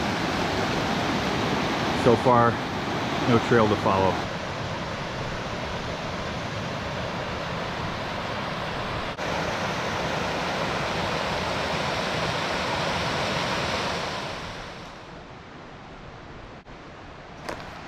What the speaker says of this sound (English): This is the creek coming down from Faler Lake down to Clear Lake.